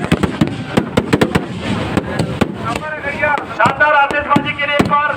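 Fireworks at an Ambikapur display crack and pop in rapid, uneven bursts, loud and close, with crowd voices and talk mixed underneath.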